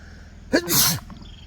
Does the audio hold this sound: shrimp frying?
no